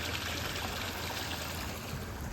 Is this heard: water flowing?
yes